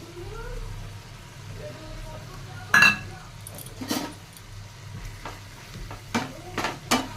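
Ground spices, chilli powder, turmeric, Kashmiri chilli, cumin and garam masala, fry softly in a pan before fish is added, a low steady sizzle broken by several sharp scrapes and clinks of the spoon stirring.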